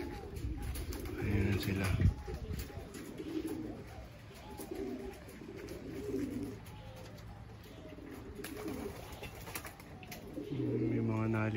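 Racing pigeons on road training in Seguin, Texas coo softly in a low, warbling murmur with occasional wing flaps, heard fairly near under a man's intermittent speech.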